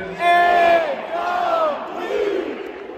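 A huge NFL stadium crowd of Denver Broncos fans chants in unison after an incomplete pass, a loud sustained collective roar rising and falling in two or three drawn-out vocal swells.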